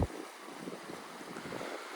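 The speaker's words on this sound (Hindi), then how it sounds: "ये नदी चल रही है, ज़ंस्कार रिवर है ये।" The Zanskar River rushes past a riverside tent at a mountain campsite, a steady broadband wash of flowing water mixed with gusts of wind buffeting the microphone, fairly faint and with no voices.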